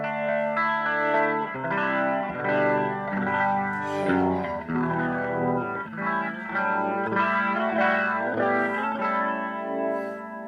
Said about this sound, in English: you can plug a guitar into them too, and they sound like this